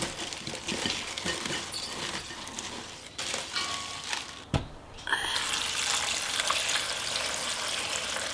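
Dongchimi broth, a Korean radish water kimchi, pours into a container with a steady, splashing trickle of liquid, briefly interrupted before a fuller, continuous gush resumes.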